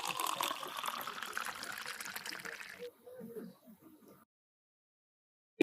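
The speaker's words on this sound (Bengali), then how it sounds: "তরল মোমে আমরা নিয়ে নিচ্ছি রং, ঢেলে নিচ্ছি আমরা তরল মোমটাকে।" Colored liquid wax pours steadily from a container into a candle mold at a candle manufacturer in Kolkata, a continuous close trickle that thins out and stops, with a short knock at the very end.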